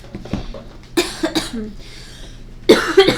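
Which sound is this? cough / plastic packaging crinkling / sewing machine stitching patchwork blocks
cough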